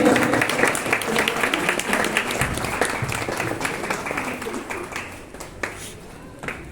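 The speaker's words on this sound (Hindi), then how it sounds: "आप सभी तालियों से उनका स्वागत करें।" Audience applause welcoming Brahma Kumari Savitri at the 87th Trimurti Shivjayanti festival of 2023, a lively burst of many hands that gradually thins and fades, with a few separate claps near the end.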